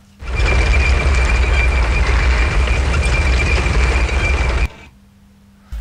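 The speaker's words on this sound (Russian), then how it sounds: "Это танк на гусеницах." A real tracked tank's engine roars loudly and steadily with a thin high whine riding on top, then cuts off abruptly, leaving near silence.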